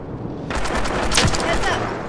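Gunfire in a horror-modded Fallout 4, a loud sustained burst of rapid shots with a sharp crack in the middle, close and forceful, with no speech over it.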